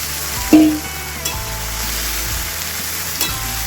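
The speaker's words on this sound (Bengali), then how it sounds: "এখন আমি দিয়ে দেবো সেদ্ধ করে রাখা মটর।" Boiled peas are tipped into a pan of frying potatoes and stirred, giving a steady close sizzle with a sharp splash as they land and scraping stir strokes, without speech.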